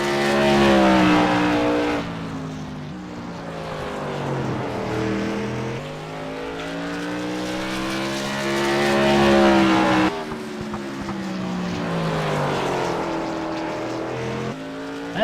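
Race cars roar continuously around a tiny 0.48-mile oval, several engines overlapping and rising and falling in pitch as they pass close by, loud and steady with no talk.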